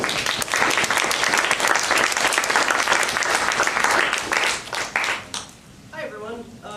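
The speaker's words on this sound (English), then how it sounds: "let's give her a warm round of applause" A meeting audience gives a loud, dense round of applause to welcome a speaker. The clapping thins out after about five seconds, and a voice begins talking as it dies away.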